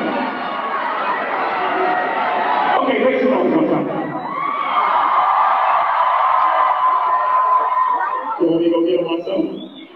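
Large concert crowd at Summer Jam 2001 roars and cheers continuously, loud and dense throughout, with shouts and whoops rising and falling before a brief dip near the end.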